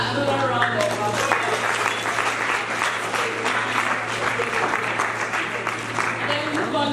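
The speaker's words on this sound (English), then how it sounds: "Please let's give another round of applause." Sustained applause from a seminar audience after a climate change lecture, many hands clapping in a thick, even patter over a constant low electrical hum.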